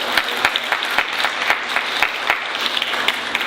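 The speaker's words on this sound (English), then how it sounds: "So give yourselves a round of applause." A crowd at a motivational sermon gives dense, loud, sustained applause that stays steady throughout with no talk over it.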